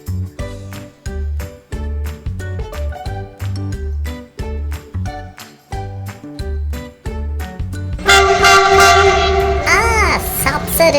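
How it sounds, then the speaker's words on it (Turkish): A bright yellow train passes close by, starting as a steady rhythmic clatter of wheels over the rails and swelling near the end into a loud, dense roar with a tonal, horn-like blare. "Tren geçecek birazdan"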